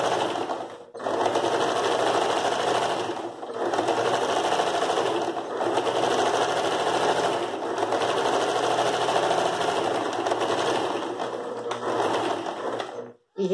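A sewing machine runs a straight stitch in long continuous whirring stretches, close and steady, with brief pauses between runs.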